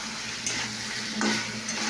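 Potatoes and pointed gourd frying with tomato and sugar are stirred in a pan, a brief run of scrapes and light clinks over a soft steady sizzle, close at hand.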